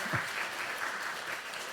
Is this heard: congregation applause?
yes